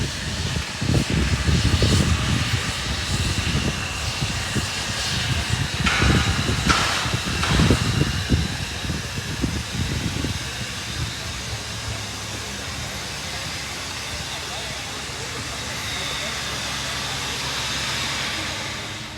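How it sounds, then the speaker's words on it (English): Riding aboard a steam train on a New South Wales loop line, a Victorian locomotive double-heading with 3801, with steady rumbling wheels and hissing. Louder chuffing bursts come early, then the sound eases to a more even running noise. "Alright, so we're riding the steam train right now."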